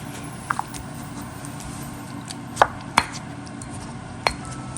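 Pandan leaves ground with water in a stone mortar, giving a few sharp pestle knocks spaced unevenly over a quiet, low background.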